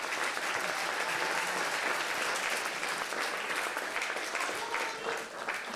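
Sustained applause from a film festival audience, dense and even clapping that carries on throughout with little variation.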